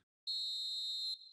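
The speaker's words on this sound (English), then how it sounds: "Referee's had a look, and he's blown his whistle for half-time." Referee's whistle for half-time in the football video game PES 2020, one clean shrill blast of just under a second after brief silence, clear and isolated with a short fading tail.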